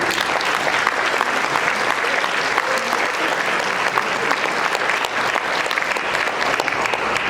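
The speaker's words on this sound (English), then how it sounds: "if we could give Ashley Hall, Lindsay Kramer, Chad Nelson, Gabriel Cruz, and Lance Lippert a round of applause, that would be great" Guests at a Hall of Fame luncheon give a loud, sustained round of applause, a thick, even roar of many hands that continues throughout.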